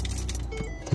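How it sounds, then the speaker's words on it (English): Car keys jangle close by as someone gets ready to start a car parked at a marsh refuge, giving a short metallic rattle with a faint vehicle hum underneath. "Okay, I'm going to start up my car."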